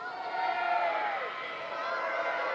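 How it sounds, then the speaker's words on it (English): Stadium crowd at a North Carolina vs. Wake Forest women's college soccer match, a broad, steady roar of cheering voices that swells slightly midway and holds on, fairly loud and continuous without distinct talk on top. "Nice to see the crowd come alive."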